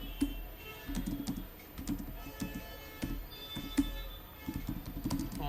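Close, steady clatter of someone typing C code on a computer keyboard: quick irregular keystroke clicks in short runs with brief pauses, alone without speech.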